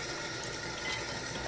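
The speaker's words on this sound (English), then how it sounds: "So I'm going to turn the tap on" Tap water running steadily over a houseplant being watered indoors, a continuous close hiss and splash with no talking.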